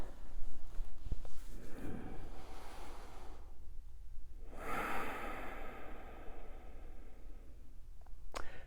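Yoga breathing during a Hatha posture session: a few slow, close breaths with airy inhales and exhales, one long breath in the middle, and no talking.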